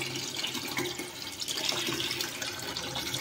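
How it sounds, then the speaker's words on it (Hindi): Water pours steadily into a home aquarium, a continuous splashing gush at moderate level with slight surges and no talking. "तो ऐसे ही करके मैं पूरा पानी ऐड कर लेता हूँ"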